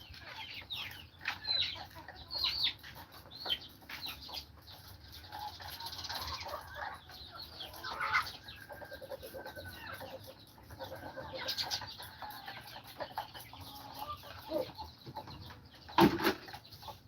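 Farm chickens clucking and calling in a steady busy stretch, several birds overlapping at moderate distance, with a few louder squawks near the end and a faint voice now and then.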